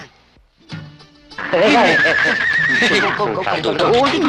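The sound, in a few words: horse neighing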